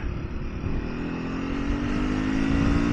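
A Triumph Scrambler 400 motorcycle engine revs steadily and loudly close by, with a continuous rising drone that holds for about three seconds and no talk over it.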